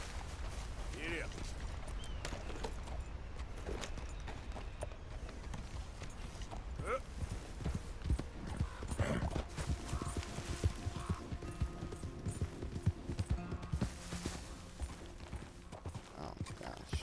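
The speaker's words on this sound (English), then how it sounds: "I feel like it's a lot harder to steer this horse now for some reason" Horse hooves clip-clop in Red Dead Redemption 2, a steady rhythmic trot of soft thuds running through the whole stretch beneath a busy game soundscape, with a person talking over it.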